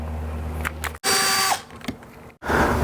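A ratchet or small driver removes Torx screws from a BMW door handle in short mechanical bursts, a buzzing whir with clicking pawl, broken by brief pauses, close and loud.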